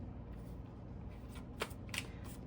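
Tarot cards being shuffled by hand, a quiet soft riffling with a few sharper flicks and snaps near the end, close and alone.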